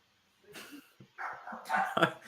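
Dogs give a few short yips and whimpering barks in quick uneven bursts, fairly close, with brief gaps of quiet between them.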